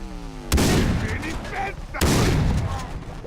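Two loud shotgun blasts about one and a half seconds apart, each a sharp broadband crack with a rolling decay, fired in the video game Far Cry 3, with faint game ambience between them.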